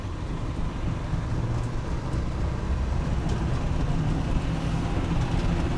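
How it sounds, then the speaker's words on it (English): A 1998 Land Rover Defender 90 300Tdi diesel droning from inside the cabin as it downshifts into third gear, a steady low engine rumble with road noise that holds even throughout. "We'll downshift back into third gear."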